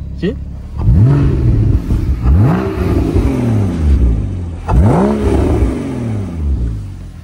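A Porsche Cayman S 981 engine is revved hard three times. Each rev climbs sharply and then falls back, loud and close, and a voice is heard briefly between the revs.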